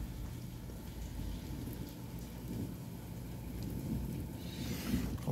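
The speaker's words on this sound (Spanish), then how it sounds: "Hasta ahora la lluvia baja." Rain falls steadily during a storm with low rumbling thunder underneath, a faint, continuous patter that swells slightly toward the end.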